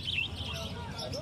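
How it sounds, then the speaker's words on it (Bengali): Small cage birds such as zebra finches chirp at the busy Garia bird market, a dense steady wash of high tweets at moderate distance over low crowd rumble. "খুব সুন্দর সুন্দর পাখি বন্ধুরা গড়িয়া পাখির হাটে আসছে"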